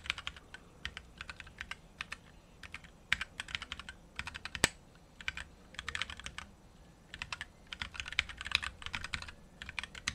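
Quick bursts of typing on a computer keyboard while writing JavaScript code, with clustered key clicks separated by short pauses and one sharper keystroke standing out midway, close and clear with no talk.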